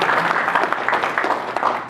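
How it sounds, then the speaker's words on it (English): Audience at a political group's meeting claps in a brisk, dense burst, close and fairly loud, with a few faint voices underneath. "Give him a round of applause"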